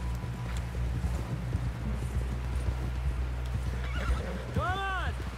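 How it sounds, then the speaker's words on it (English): A horse in Red Dead Redemption 2 clip-clops along steadily, then lets out a loud, rising and falling whinny near the end, over a constant low game ambience. "Someone help John down off this horse"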